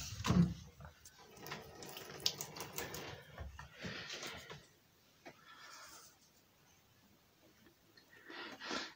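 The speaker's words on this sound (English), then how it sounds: "I'll turn on the water." A kitchen or bathroom tap runs in a home, its water heard intermittently in soft bursts beneath background noise and movement, with a louder gush at the very end.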